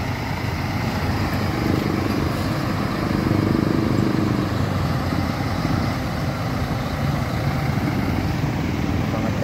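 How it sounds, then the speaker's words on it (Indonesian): A mountain bus engine idles steadily at the Gayo highlands terminal in Aceh, a continuous low rumble holding at a constant close level throughout. "Kita nyalakan mesin juga."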